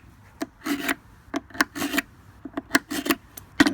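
A Goodwill cheese spreading knife is sharpened by hand, making rhythmic rasping strokes about twice a second, close and fairly loud, with short pauses between passes.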